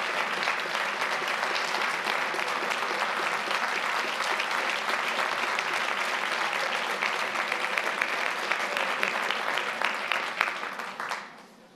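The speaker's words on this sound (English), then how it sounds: "Thank you for your applause for the FBI" Sustained audience applause at a public address by the FBI director, a dense, steady clapping from a large crowd that fades out at the end.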